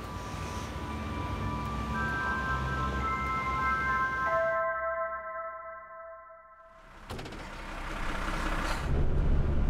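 A 12-tonne fuel delivery truck drives at night on mountain roads in severe cold. Its engine drones steadily and loudly with long tonal whines, dips briefly, then surges back to a heavy rumble.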